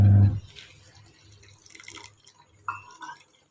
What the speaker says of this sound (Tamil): இப்போ ஒரு இது தண்ணி சேர்த்துக்கலாம்.